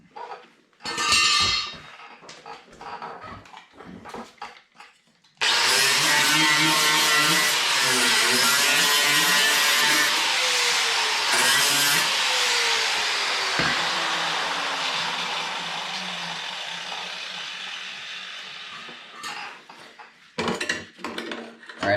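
A wire wheel strips paint from the seat frame of a Honda ATC 70 with a loud, continuous whirring grind that slowly eases off, framed by brief clatters and short bursts at the start and end.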